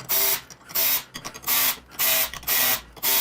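Power driver runs screws into lower fairings on a 2023-or-older Harley-Davidson Touring motorcycle, in about five loud, steady whirring bursts separated by brief pauses.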